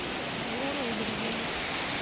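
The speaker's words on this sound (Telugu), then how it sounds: "మస్తు పడుతుంది వాన మామూలు వాన కాదు" Heavy rain pours steadily in a village, a dense, even hiss of drops striking surfaces, close and unbroken, without speech.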